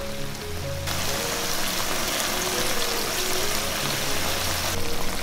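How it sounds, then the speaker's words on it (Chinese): Tofu braises over medium heat in a sauce of mushroom broth with scallops and shiitake, giving a dense, even bubbling and hissing simmer close up, continuous with no voices. "调中火焖煮2分钟，让豆腐吸收酱汁的味道"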